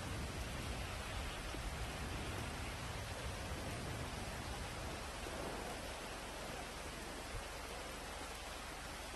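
Continuous rainfall in GTA, a broad unbroken hiss that holds at a fairly low, even level throughout, with no one speaking.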